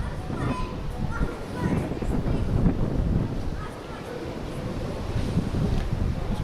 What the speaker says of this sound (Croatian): je zvuk Bure glasniji od mog komentara